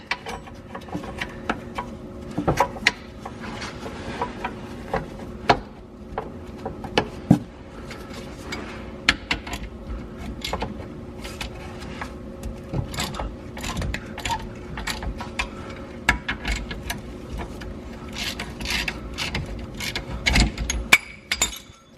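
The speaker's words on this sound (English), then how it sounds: "now I'm going to work on taking off these bolts here for this trans differential mount here" Socket wrench ratcheting as bolts come off a transmission differential mount on a C4 Corvette during a six-speed swap; steady close clicking with scattered metallic clinks and knocks, no talk.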